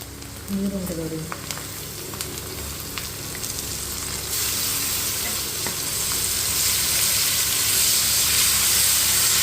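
Fenugreek leaves dropped into a hot pan with tomato fry, bursting into loud, continuous sizzling and hissing that grows stronger after a few seconds, with faint stirring clatter.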